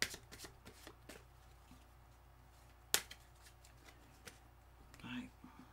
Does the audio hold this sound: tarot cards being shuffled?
yes